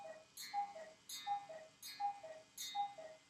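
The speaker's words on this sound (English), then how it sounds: "There's this cuckoo clock." A cuckoo clock ticks in a quiet room, four evenly spaced tick-tock beats, each a crisp click with a faint ringing tone, close and soft, with no voices.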